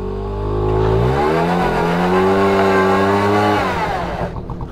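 An old Honda Motocompacto scooter engine revs up for a burnout, a close, buzzing whine that climbs in pitch, holds at high revs, then drops away.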